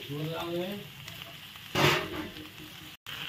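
Jackfruit frying with a fried spice paste in a pan, giving a steady close sizzle with one louder burst of stirring midway. A voice is faintly heard near the start.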